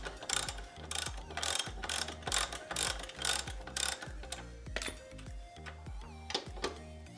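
A wrench tightens the rear wheel nut on a TVS Apache 160 4V motorcycle with rapid ratcheting clicks in bursts, followed by slower individual metallic clicks, close and fairly quiet.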